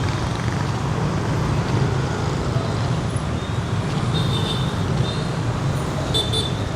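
A busy road in Saigon carries a constant loud wash of passing cars, motorbikes and heavier vehicles, with faint horn toots late on and no one speaking.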